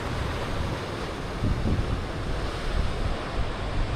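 Ocean surf breaking at Fishery Bay, a steady wash of waves with wind rumble, a heavier swell surging in midway, with no voices.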